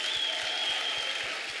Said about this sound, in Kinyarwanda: muhimera amashyi n'icyubahiro